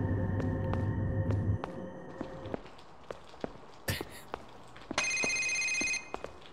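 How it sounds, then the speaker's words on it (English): A cell phone text message alert sounds in an X-Files video game, a short bright electronic chime near the end that comes after soft footstep-like taps and earlier tonal game sounds, moderately loud with no talking over it. "A text message has arrived on my cell phone."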